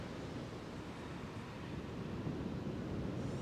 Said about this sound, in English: tune in with the sound of the waves behind me